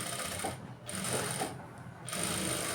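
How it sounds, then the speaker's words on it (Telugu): A sewing machine stitches the shoulder seam of a blouse, running in short steady bursts with brief pauses between them, close but fairly quiet over a soft background hum. "గుళ్ళు రాకుండా నిదానంగా నీట్గా కుట్టుకోవాలి"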